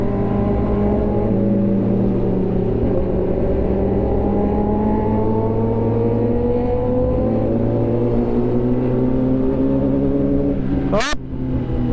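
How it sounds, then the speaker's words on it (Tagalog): Kawasaki 4RR motorcycle engine revving up close, a loud, sustained whine with harmonics that climb steadily in pitch, ending with a brief sharp burst near the end. "Solid talaga yung tunog ng Kawasaki 4RR."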